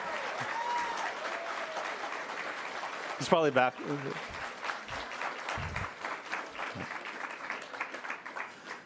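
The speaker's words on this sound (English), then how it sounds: "Please give him a round of applause." Crowd applause at an anime convention panel, a steady wash of clapping throughout with a few whoops and cheers, while people talk briefly over it.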